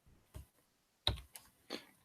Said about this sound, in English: I'm just typing it here.